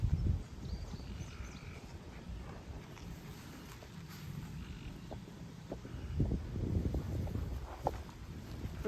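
Gusty wind buffets outdoors beside beehives, a low rumbling roar that swells and fades unevenly, with no one speaking.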